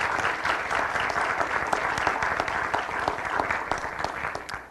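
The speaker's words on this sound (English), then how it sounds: "Ladies and gentlemen, if you could please give us a round of applause" A room at a city council meeting fills with a round of applause, dense clapping that holds steady before tapering off at the end.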